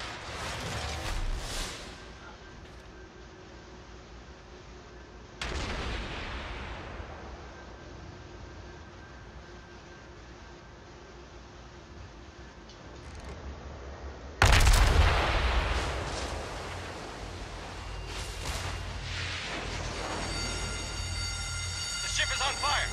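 Naval gunfire from warships in an online naval battle game, a few heavy booming salvos rolling out at intervals, with the loudest burst midway, under steady ambient rumble and players talking.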